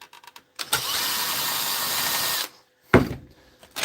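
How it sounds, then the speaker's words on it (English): Screws being driven out by a power driver: one sustained whirring burst of about two seconds, then a short clunk and another brief whir, loud and close on a workbench where a power tool is being repaired. "We'll screw off these 4 screws."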